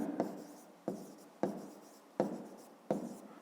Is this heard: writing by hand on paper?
yes